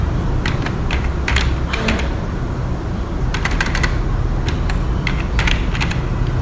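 Someone types a surname into a visa application form on a computer keyboard, producing quick clusters of light key clicks with short pauses between them over a low, steady background hum.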